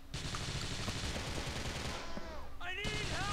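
Rapid bursts of gunfire in GTA IV: The Lost and Damned, dense and loud, with whistling tones and effects toward the end.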